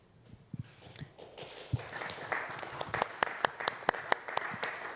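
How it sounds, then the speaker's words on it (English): Audience at a local council election hustings in Edinburgh applauding, a few scattered claps swelling into a moderate round of clapping with some louder individual hand claps standing out. "you realise if you've clapped for one person, you're now going to have to clap for everyone"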